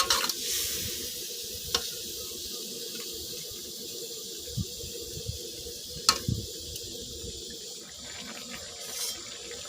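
Catfish curry stir-fried in a pan just after water is added, giving a continuous hiss and bubbling sizzle with occasional light scrapes of a utensil, steady and close throughout.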